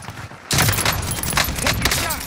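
Dense battle royale gunfire erupts after a quieter half-second lead-in, a sustained loud burst of rapid shots and impacts with game effects layered over it.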